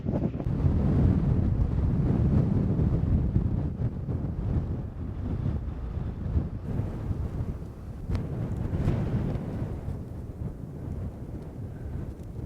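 Strong wind roars steadily across a mountain ridge in the Rocky Mountains, a loud, continuous rumbling rush with slow swells and dips, no voices.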